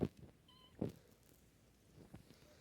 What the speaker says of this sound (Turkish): şu kedi kiminki lan?